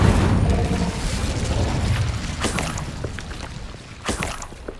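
A fire spell cast in the video game Hogwarts Legacy: a loud, rumbling whoosh of flame bursting out at the start and fading over several seconds, with a few crackling pops and a second burst near the end.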